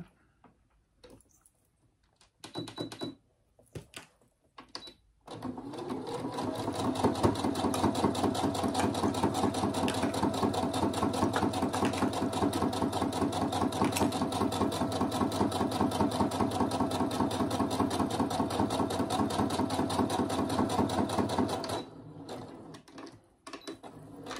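A sewing machine topstitches half a centimetre from a fabric edge, running steadily for about sixteen seconds with a fast, even mechanical rattle, framed by a few soft handling clicks before and after.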